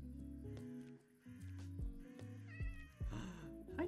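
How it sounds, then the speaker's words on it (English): A cat meows a few times in the video game CuteCraft over layered game music, the calls clear and fairly close, with a brief soft pattering near the end. "I hear a cat."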